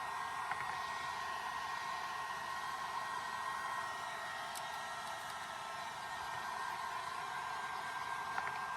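A heat gun blows steadily while heating vinyl graphics, a continuous loud whooshing hiss with a faint whine that holds level throughout, with a few small clicks.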